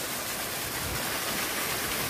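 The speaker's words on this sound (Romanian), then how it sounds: "O altă mini cascadă." A small waterfall in a mountain stream near Poiana Mărului, Caraş-Severin, gives a steady, close rush of falling water that holds even, with no voices.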